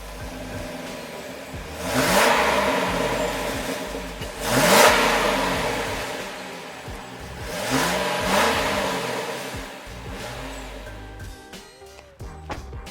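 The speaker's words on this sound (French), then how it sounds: "je vais vous démarrer son V8" A Chevrolet Corvette C6 V8 engine starting and revving up close, with three or four rising and falling rev swells over a deep idle rumble.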